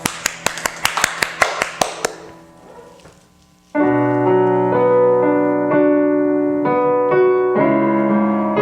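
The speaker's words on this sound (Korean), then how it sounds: "우리 주님께 영광의 박수 올려드립시다" A church children's worship congregation giving applause to the Lord, with a quick run of about ten crisp, rhythmic claps, then a sustained keyboard-like musical tone that continues alone.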